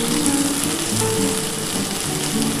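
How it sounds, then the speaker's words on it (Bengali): Turmeric, chilli powder, tomato and salt fry hard in hot oil for a spicy bean and potato curry, a loud, close, continuous sizzle with no talk over it. "এবার এটা খুব ভালো করে ভেজে নিতে হবে।"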